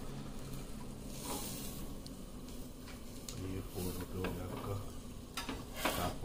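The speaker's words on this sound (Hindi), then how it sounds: "ये देखो कितनी मस्त आवाज आती है ड्राई फ्रूट जब रेडी होते हैं तब" Dry fruits fry in a home kitchen pan, giving a steady low sizzle with occasional stirring scrapes and clinks throughout.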